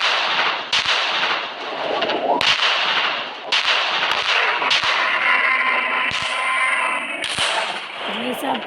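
Gunshots ring out at a dinosaur in a dinosaur-park video game, a series of loud, sharp blasts spaced a second or so apart over a busy background.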